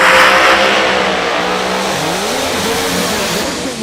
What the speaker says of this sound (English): Here comes the boost. The precision turbos spinning up,